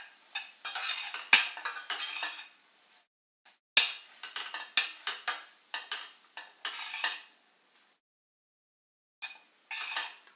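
Paneer masala with ginger garlic paste being stirred in a pan: a spoon scrapes and clinks against the metal in repeated bursts, close and clear, with short pauses between strokes and no talk.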